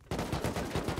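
Rapid automatic gunfire in the video game Rust, a close burst of about eight sharp shots in quick even rhythm, loud and alone.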